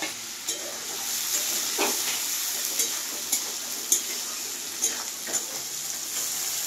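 Onions fry over high heat with a constant bright sizzle, broken by repeated sharp clicks and scrapes of stirring in the pan.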